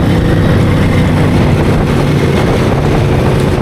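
Triumph motorcycle being ridden, captured by a poor-quality microphone as a loud, continuous engine drone smeared with heavy wind buffeting.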